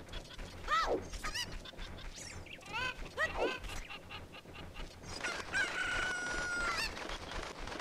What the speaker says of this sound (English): If you throw the chicken at the right angle...